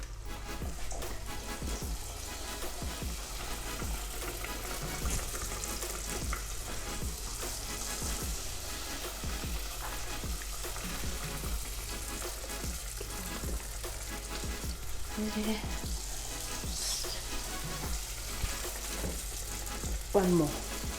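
Vetkoek (magwenya) dough fries in hot oil with a continuous, fairly quiet sizzle and crackle that pulses with a faint rhythmic bubbling.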